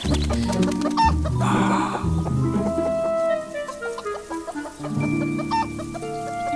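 Chickens clucking close by, a busy overlapping chorus of hens with sharp squawks and short calls throughout.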